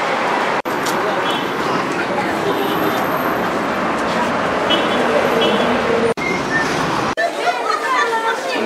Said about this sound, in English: Now I'm in the bus station.